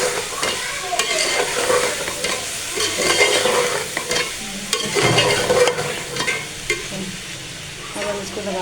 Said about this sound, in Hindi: अब हम इसको मिक्स करके तो इसको लगा देंगे दम से।